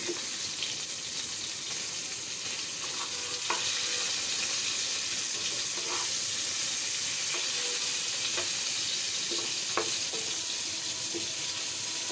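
Food fries in hot oil in a home kitchen before a cauliflower curry is cooked, a steady crackling sizzle that runs throughout. Occasional light utensil taps sound over it, and nobody speaks.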